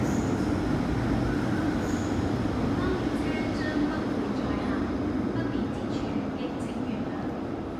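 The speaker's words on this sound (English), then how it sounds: "Why suddenly have a not-in-service train coming in here?" A not-in-service metro train rumbles steadily into Po Lam Station, with a continuous low roar and faint wheel squeal and clatter throughout, loud and close.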